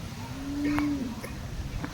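A single drawn-out moo from a Holstein Friesian cow at the Loni cattle market, rising and fading over about a second against a steady outdoor background hum, moderately close.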